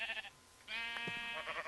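A Minecraft sheep bleats once in a long, wavering, nasal cry, preceded by a brief shorter bleat, close and clear with no talk over it.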